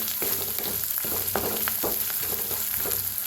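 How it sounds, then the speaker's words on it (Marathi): Garlic masala with turmeric and red chilli powder roasting in hot oil, a steady close sizzle with a few sharp spoon scrapes against the pan, no voices. "आता लसूण मसाला भाजलाय बघा त्याच्यात टाकूया हळद लाल तिखट एक चमचा भाजून घेऊया"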